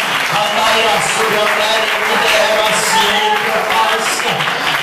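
A church congregation clapping hands during a sermon, continuous dense clapping mixed with voices and the preacher speaking over it throughout.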